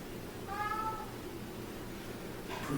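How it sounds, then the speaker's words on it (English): A cat meows in a basement, two drawn-out meows heard faintly and at a distance, the first early and the second at the very end, over a quiet room hum. "The cat's going crazy in the basement."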